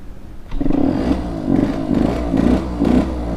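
A vintage Yamaha YSR50 motorcycle's small engine runs nearby, buzzing with several short rhythmic bursts of throttle, loud and close with some clattering.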